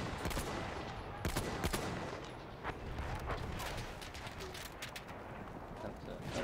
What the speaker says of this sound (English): I can take my pop shots at them